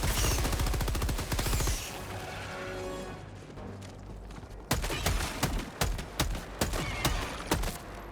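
Automatic machine gun fire in the video game Helldivers 2, with a fast sustained burst at the start, a quieter stretch, then sharp, loud single and clustered shots cracking out in an uneven rhythm.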